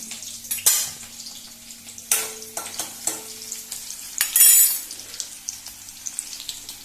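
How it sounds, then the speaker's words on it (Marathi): Garlic sizzles in hot oil in a home kitchen pan, a steady crackling fry punctuated by several sharp stirring scrapes and clinks of a utensil against the pot, fairly close and moderately loud. "आता हे पळय लसूण घालता। लसूण घातली"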